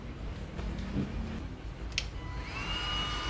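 Cordless DeWalt heat gun running steadily, a continuous airy blower whoosh with a faint rising whine near the end, heard at close range.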